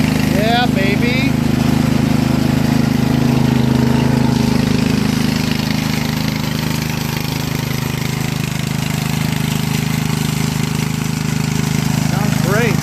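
Craftsman 13.5HP riding lawn mower with a 30-inch deck idles just after starting, a steady low rumble with a loose-sounding muffler. Voices come and go briefly over the continuous engine drone.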